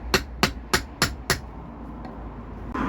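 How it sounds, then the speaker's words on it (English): A lump hammer striking a cold chisel to push a brake caliper piston back in on a classic Ford, five sharp metallic blows in an even rhythm, close and loud, then quiet shuffling and a rustle. "Gently push the piston back in with a cold chisel and a lump hammer."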